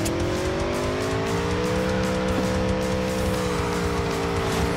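A car in the video game Cyberpunk drifts through a turn, its engine droning loud and steady with a sustained tire squeal throughout.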